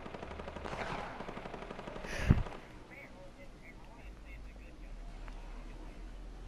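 A light machine gun fires in a first-person shooter game with a rapid, rattling stream of shots and one sharp loud report, then fades to softer distant fire, and a player talks over it.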